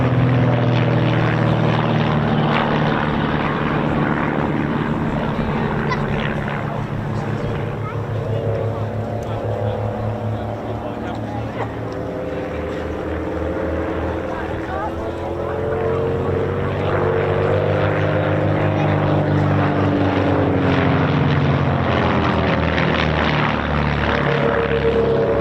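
Piston-engined Mosquito and Lancaster propeller aircraft fly a parallel loop together at the East Kirkby airshow, a loud, steady engine drone that swells and shifts in pitch as they pass, with commentary over it.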